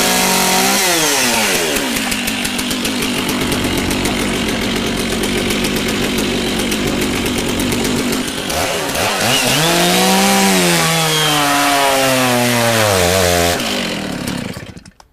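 Stock chainsaw running hard while cutting wood, its engine loud and close, bogging down into a strained lower pitch under load, then revving back up before cutting off at the end.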